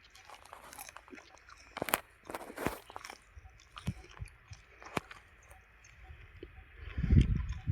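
Someone bites and chews a raw stem of Mexican prickly poppy, with close, irregular crisp crunches and wet snaps scattered across several seconds, ending in a louder burst of chewing.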